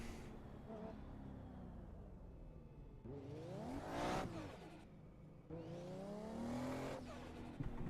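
A race car engine in a drifting sim video game revs and whines through gear changes, rising and falling in pitch, with tire noise and no voices.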